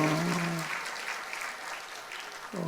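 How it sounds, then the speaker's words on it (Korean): A church congregation applauds to bless a young drummer, steady clapping of moderate loudness throughout, with a voice speaking briefly at the start and again at the end. "우리 박수로 한번 축복하십시다."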